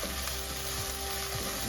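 Fresh fenugreek leaves frying in a pan for methi pulao, giving a steady, dense, close sizzle with a faint tonal hum underneath, no talking.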